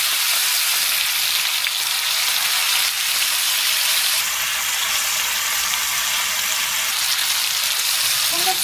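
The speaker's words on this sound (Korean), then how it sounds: "삼겹살 기름을 먼저 김치부터 살짝 볶아주세요" Kimchi stir-frying in rendered pork belly fat gives a steady, dense sizzle throughout, close and even, like rain on a surface, with a brief clatter near the end.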